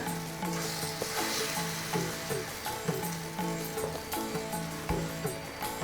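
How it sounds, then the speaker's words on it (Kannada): Rava and cucumber batter is spread with a spoon across a hot tawa, giving a quick run of rhythmic scraping strokes over a constant bright sizzle, heard close up with no voices. "ಹಿಂಗೆ ಸ್ಪೂನ್ಲೆ ಸ್ಪ್ರೆಡ್ ಮಾಡ್ಕೊರಿ ತವ ಒಳಗೆ"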